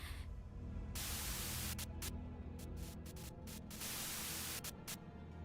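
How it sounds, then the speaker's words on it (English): A radio speaker in a truck gives off a steady buzz of white-noise static, fairly faint, broken by short crackling bursts and dropouts. "A sudden buzz of white noise breaks through the truck's silence."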